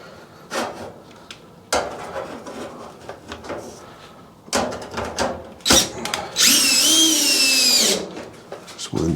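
Power drill driving screws back into a Whirlpool Duet dryer, a short high whirring burst near the end after scattered clatter and handling knocks, with a voice talking at times.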